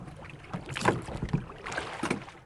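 A boat moving across water toward Green Island, soft paddling splashes and water swishes in uneven bursts, fairly quiet, with no voices.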